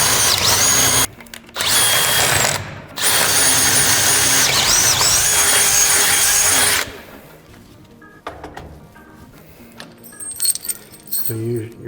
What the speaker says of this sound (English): Use your drill and your 1/2 inch. You're going to drill holes to hold the bearings.